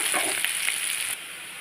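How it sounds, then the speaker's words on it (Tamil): A short burst of bright sizzling from onion and garlic frying in a pan, a close crackling hiss that drops off suddenly partway through. "நல்லா வெங்காயம் பூண்டெல்லாம் வதங்கிருச்சு"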